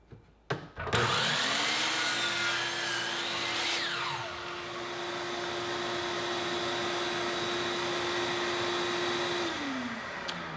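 A power tool cuts a foot off long timber-frame wood peg stock, first a few sharp knocks, then a loud, steady whine that holds for several seconds before winding down near the end.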